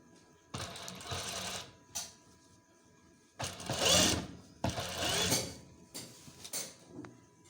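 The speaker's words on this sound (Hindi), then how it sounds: "जहाँ जहाँ प्लेटों वाली सिलाई लगी हुई है हमने उसके ऊपर सिलाई करनी है।" A sewing machine stitching over the pleats of a frock, running in several close, whirring bursts of a second or two with short pauses between them.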